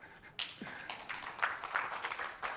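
Scattered applause from a conference audience at a Microsoft tech session, light uneven claps with a few sharper taps rising and falling, fairly distant and thin rather than a full ovation.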